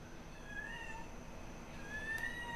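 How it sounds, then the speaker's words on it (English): A pet cat meows faintly in two drawn-out calls, separated by a pause, over a steady low background hum. "My kitty cat wants to be in the video."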